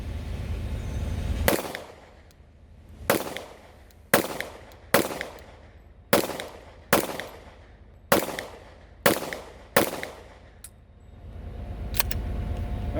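Glock pistol fitted with a Guncrafter Industries .50 GI conversion slide fired at about 20 yards: eight loud, sharp shots at an uneven pace, each with a short echoing tail, against a quiet outdoor background.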